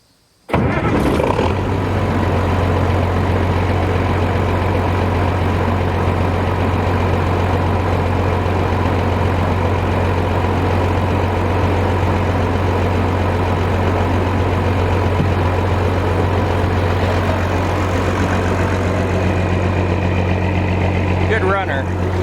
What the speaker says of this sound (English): So let's fire her up one more time and see how she runs idling.